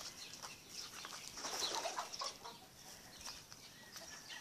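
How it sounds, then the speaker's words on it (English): Chickens in their enclosure: faint, distant clucks and soft bird calls with some light rustling and fluttering over a quiet background hiss, no talking. "And this is where they keep all their chickens."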